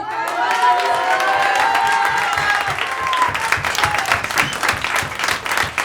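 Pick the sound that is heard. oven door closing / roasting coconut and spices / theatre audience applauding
theatre audience applauding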